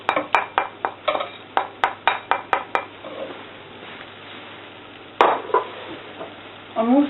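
Metal clinks and taps against a pan come in quick succession as spices go in for a mutton curry, followed by a quieter sizzle and another sharp clatter near the end.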